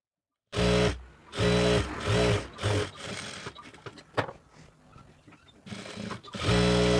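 A sewing machine stitches an XXL chudi pant leg in a tailoring shop, running in several short close bursts, pausing, then starting again with another steady run.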